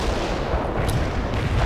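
Distant artillery barrage rumbling in World in Conflict, a dense continuous low roar of overlapping shell impacts with a faint high crack partway through, steady and unbroken, no voices.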